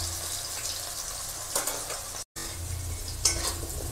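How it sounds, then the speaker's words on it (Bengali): Potatoes sizzle in frying oil with a soft, continuous crackle, broken by a few sharp scrapes and clinks of stirring in the pan, close and fairly quiet with a brief dropout midway. "আলুগুলো একটু ভালো করে ভেজে নেব, লাল লাল করে।"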